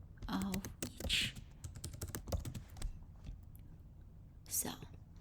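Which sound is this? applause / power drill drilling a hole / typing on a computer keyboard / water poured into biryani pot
typing on a computer keyboard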